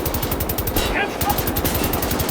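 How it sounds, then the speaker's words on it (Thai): Rapid automatic gunfire in the video game Wolfenstein: The New Order, a steady fast stream of close, loud shots running through the whole moment with a brief dip in the middle. "ปืนมันแลดูแรงมากเลยนะแต่ว่ากระสุนมันกระจายไปหน่อยนะฮะ"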